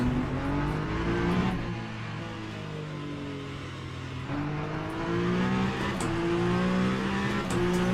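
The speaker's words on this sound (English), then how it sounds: "Well, we can hear the car" Race car engine in the racing sim Le Mans Ultimate, a steady droning whine that rises and falls with gear changes and revs, continuous and moderately loud throughout with no talking.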